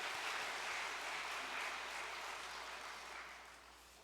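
Grateful applause from a church congregation during a Korean service: a broad, even crowd of clapping that fills the room, then slowly fades toward the end, fairly faint and distant with no voices over it.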